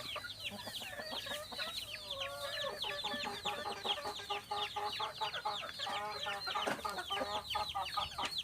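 A flock of farm chickens clucks continuously in a dense, overlapping chorus, steady and fairly close, with no talk over it.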